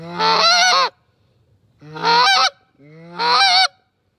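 Three loud, close, drawn-out honks blown on a duck and goose call, evenly spaced with short pauses, each a buzzy goose-like note with a wavering pitch and no talking.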